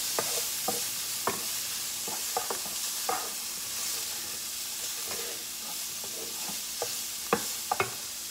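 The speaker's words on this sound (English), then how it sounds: "I'm gonna put a little bit of minced garlic in there. mix it all around in there and let it get cooking" Sausage and minced garlic sizzle and hiss in a frying pan, close and fairly quiet, as a utensil stirs them with scattered scraping clicks and taps, with no talking.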